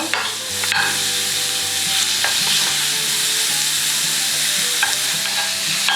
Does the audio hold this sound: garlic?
yes